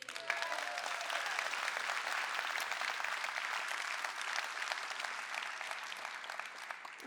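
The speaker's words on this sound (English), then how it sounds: "You're going to give me the Dutch kringverjaardag round of applause, are you?" Steady applause from a lecture audience at the Nelson Mandela Lecture, a dense, even patter of many hands clapping without pause throughout, moderately distant and fairly quiet.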